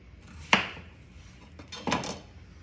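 A kitchen knife cuts a huge onion in half for birria tacos: two separate crisp chops, about a second and a half apart, close by and fairly quiet.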